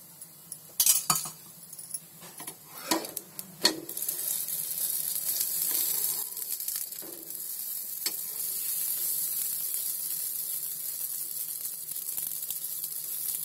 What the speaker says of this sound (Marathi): आता उलटे फिरवले ना की आपण थोडेसे भाजायचे आणि काढायचे